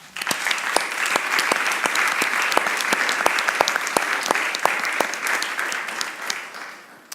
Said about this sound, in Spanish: yo pediría un aplauso para vosotras